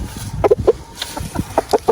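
A hen and a black rooster cluck close by in short, irregular bursts, several quick clucks spaced apart over a couple of seconds.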